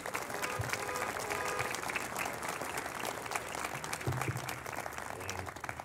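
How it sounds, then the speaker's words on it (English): Sustained audience applause fills a municipal band concert, steady clapping from a sizable crowd, with a few faint voices and instrument sounds mixed underneath. "Let's have one more round of applause for Mr. Gamberling."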